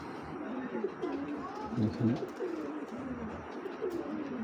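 Large Giribaz pigeons coo in repeated soft, low rolling phrases through a steady background hiss, the calls close but fairly quiet.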